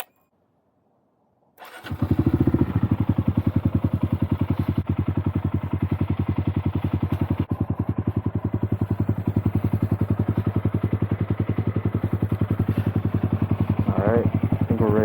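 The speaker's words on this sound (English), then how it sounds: "Let's get the bike warmed up." A modded Honda Monkey motorcycle engine starts after a moment of silence and settles into a steady, loud, close idle with a rapid regular putter, warming up throughout.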